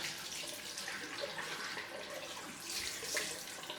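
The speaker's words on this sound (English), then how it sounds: "Let's do the cold rinse." Cold water running steadily from a tap into a bathroom sink for a rinse after a shave, a constant soft splashing hiss with a slight surge near the end, no voices.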